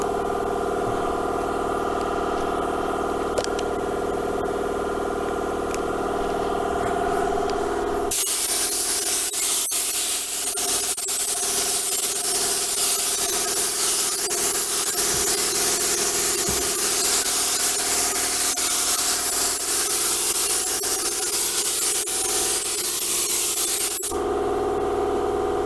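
An HVLP spray gun sprays paint onto walls: a loud, steady hiss that starts abruptly, runs unbroken for about sixteen seconds and then cuts off, with a quieter mechanical hum before and after.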